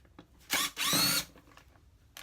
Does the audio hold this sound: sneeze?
no